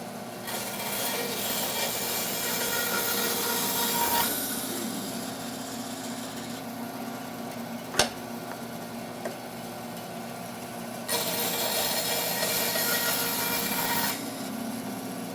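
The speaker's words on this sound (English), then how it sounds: "And I'm using a wood slicer blade, so I'm not getting any splinter out on the back side of this, so it makes the cut nice and smooth." A saw fitted with a wood slicer blade cuts through small wood pieces for a clamp rack, making two rasping cutting passes of several seconds each, separated by a quieter pause and a single sharp knock.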